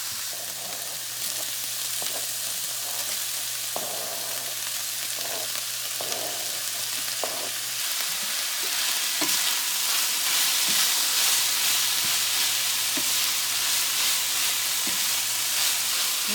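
Browned ground beef sautés with onions and tomatoes in a pan, giving a continuous close sizzle with occasional stirring scrapes and clinks and a low steady hum underneath. Nobody talks.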